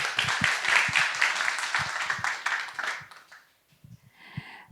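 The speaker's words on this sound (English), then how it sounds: "Please give him a round of applause" Audience applause closes out a pitch at a startup innovation forum, a broad wash of clapping that tapers off after about three seconds into near quiet, followed by a brief burst of voice.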